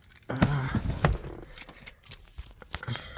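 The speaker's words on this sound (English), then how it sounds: "get my keys here real quick" Keys jingle and rattle inside a Lexus IS300 car in several short metallic bursts, close by, with some handling clatter and no talking.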